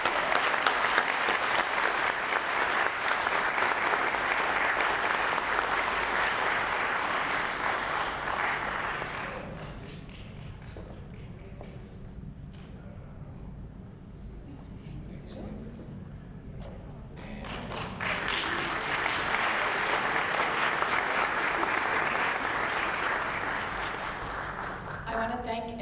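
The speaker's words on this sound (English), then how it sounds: "Give her a big round of applause." An audience at an employee recognition award ceremony applauds loudly for about nine seconds, falls to a quieter lull with a few scattered sounds, then breaks into a second strong round of clapping that swells and continues.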